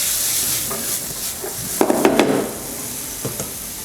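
Onion and garlic sauté in a pan, a steady soft sizzle with a few bright clatters of stirring utensil against the pan near the middle and end.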